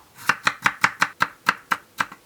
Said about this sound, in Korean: 이렇게 남아있는 짜투리 채소를 한꺼번에 이렇게 다져가지고